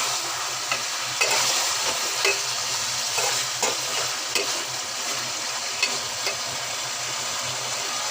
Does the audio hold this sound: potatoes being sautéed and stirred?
yes